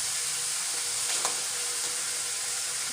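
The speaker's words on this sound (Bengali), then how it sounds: "পেঁয়াজ বাটাটা আমি 2 মিনিট ভালো করে নাড়াচাড়া করে এর সাথে দিয়ে দিচ্ছি কাঁচা লঙ্কা বাটা" Onion paste fries in a pan for a Bengali fish dish, a dense, continuous sizzle filling the space while a utensil stirs it with soft scraping strokes.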